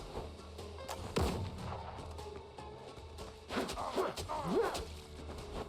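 A gunshot in the video game Windrose cracks out loud and close around the one-second mark, followed by further sharp impacts and whooshing effects over a steady low game rumble.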